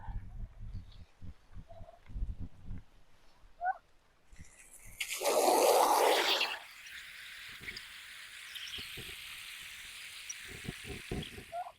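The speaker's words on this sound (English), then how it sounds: "Turkeys just standing in their water." Farm turkeys standing in water from a hose in a yard let out a loud burst of gobbling, with scattered clucks and soft drips before it and a steady hiss of running water after.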